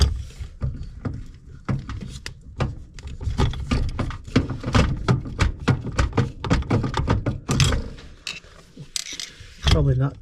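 A screw being driven into a 2020 GE dishwasher during a drain repair, giving a steady run of rapid mechanical clicks and ratcheting taps, loud and close, with a brief louder knock near the end.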